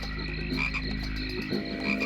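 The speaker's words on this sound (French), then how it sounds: "Regarde bien ces grenouilles." Frogs croaking near a path by a mountain stream, a dense chorus of repeated croaks and trills, steady and fairly close.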